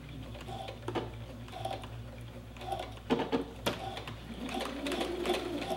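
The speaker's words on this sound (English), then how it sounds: "don't forget to do a couple of back stitches" A sewing machine runs in short, steady bursts while back-stitching a fabric hem, its needle chattering close by with brief pauses between runs and a low motor hum underneath.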